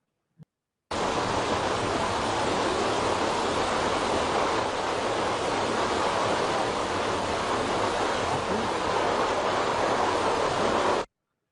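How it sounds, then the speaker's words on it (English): A waterfall in a scene compared to paintings, heard as a loud, steady, unbroken rush of falling water lasting about ten seconds after a brief silence. "there is this waterfall"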